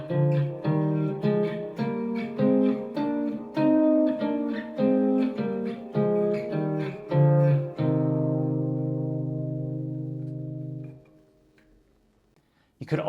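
Guitar playing minor scale notes paired in thirds, a steady sequence of plucked two-note intervals ending on a long sustained ringing chord that fades out.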